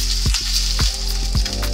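An egg sizzles steadily in a hot frying pan while being flipped over easy, with a few soft knocks of pan or spatula over a constant hiss.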